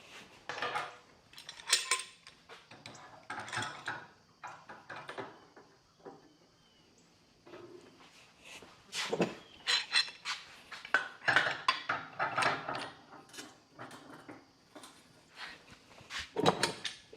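Clamps are cranked down over the sides of a workpiece, giving intermittent close metallic clanks, rattles and scraping clicks in irregular bursts with short quiet gaps.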